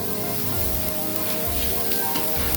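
Oil sizzles steadily as ingredients are sautéed with turmeric in a pan for a simple potato fry, a close, continuous frying hiss with soft stirring scrapes and no talking.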